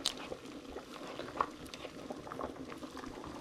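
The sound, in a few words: pasta boiling in water while stirred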